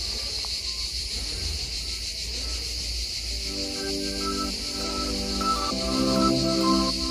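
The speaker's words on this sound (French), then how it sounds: "écoutez-moi ces cigales" Dense, steady insect buzzing outdoors in southern France, cicadas droning continuously at a moderate level with faint rustling and occasional soft background sounds, no talk.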